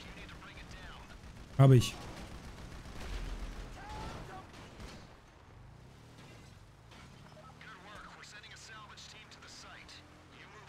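A single sharp, loud gunshot bursts out early during a GTA V Online mission, followed by low game ambience with a person talking over it.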